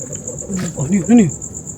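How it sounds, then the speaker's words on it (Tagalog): A frog croaks at night in a cemetery in Laguna. A few low, warbling croaks rise up close over a steady, high chirring of insects. "Ay, hindi, palaka pala."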